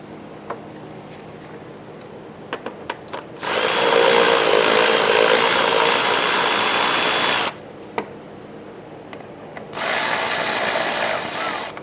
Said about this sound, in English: Get the two 10mm nuts installed. We'll snug those down.